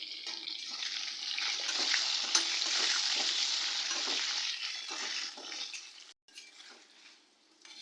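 Potato pieces fry in hot oil with turmeric and salt, a bright, busy sizzle that holds steady and loud for several seconds, then cuts out briefly and fades quieter toward the end.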